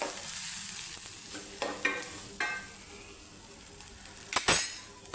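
Turmeric, salt and red chili powder sautéed in a pan for dal, a soft low sizzle with a few stirring scrapes and a sharp metallic clink near the end, quiet and without speech.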